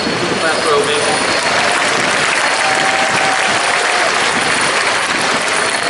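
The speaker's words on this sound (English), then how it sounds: "Just clap for Obi." Loud, sustained applause from a large crowd at a memorial dedication and unveiling ceremony in Philadelphia, steady clapping filling the whole stretch with a faint whistle partway through.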